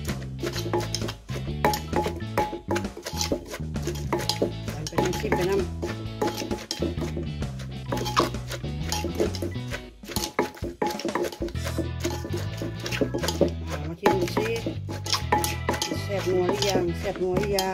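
Wooden pestle pounding spicy Thai seafood papaya salad with squid, shrimp and glass noodles in a mortar, in a steady, rhythmic stream of thuds and clacks, with someone talking over the pounding.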